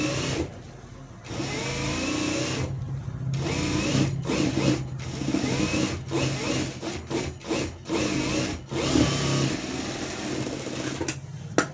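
Sewing machine stitching cloth by hand-guided seams, a continuous fast mechanical whirring broken by several short pauses as the fabric is repositioned, close and alone.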